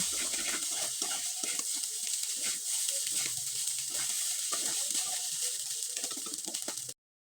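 A spiced filling for a flour pitha is stirred in a pan, with a continuous soft sizzle and hiss and faint scraping, close by, ending abruptly in silence.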